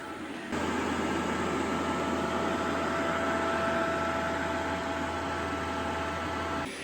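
A boot dryer's steady electric whirring hum with a faint tonal whine switches on, runs evenly for several seconds, then cuts off.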